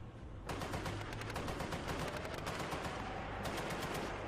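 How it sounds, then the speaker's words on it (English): Sustained machine gun fire from an armored vehicle in combat, a dense stream of rapid bursts with a brief gap near the end before firing resumes, loud and close with no voices. "while the machine gun continues to fire to suppress them"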